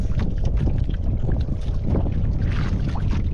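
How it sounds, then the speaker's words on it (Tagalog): Strong wind buffets a boat out on the water, a loud, continuous rushing roar with gusty microphone rumble and no let-up. "Grabe yung hangin."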